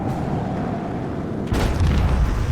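A deep booming torpedo explosion in the space-combat game Warhammer 40k Rogue Trader erupts about halfway through, following a steady low rumble and hiss.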